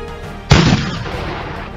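A toy pirate ship's cannon fires once with a sharp, loud boom that bursts out halfway through and quickly fades, set against a quiet background.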